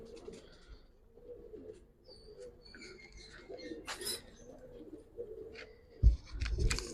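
A Giribaz pigeon coos in low, wavering phrases alongside higher chirps and a few sharp knocks, then a loud clatter of handling or wing noise at the end, with faint voices around.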